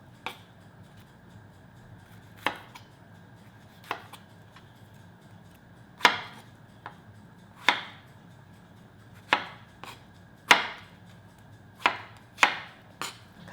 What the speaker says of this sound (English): Cut into small pieces, around 1/2 cup strawberry.